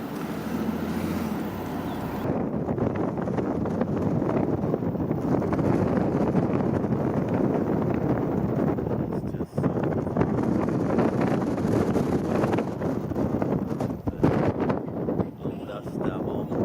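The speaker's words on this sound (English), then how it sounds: "The wind passing by, that was crazy." Strong wind gusts through Palo Duro Canyon in Texas, a loud, continuous rushing roar that buffets the microphone with rumbling surges throughout.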